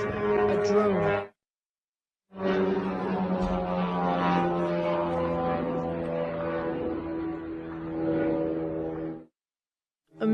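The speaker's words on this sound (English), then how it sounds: "A big drone is flying." Large drone flying overhead near a river by a house, a loud droning engine tone with strong harmonics that cuts out, returns for several seconds, then drops away again.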